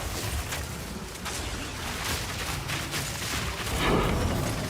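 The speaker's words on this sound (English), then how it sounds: "We have the explosions now." Rapid, dense blasts and booms from the action RPG Path of Exile, a continuous roar of layered explosions with a louder burst near the end, no voices.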